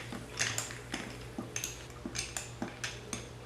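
A spoon stirs a milky mango and coconut smoothie topped up with 7Up and ice cubes in a glass, giving a steady series of close, light metallic clinks and taps against the glass.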